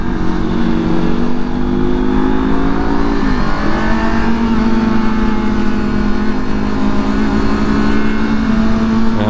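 A Honda E-Clutch motorcycle engine revs loud and close, its steady harmonic drone dipping briefly at each clutchless gear shift, once early and again near the end, before climbing back up.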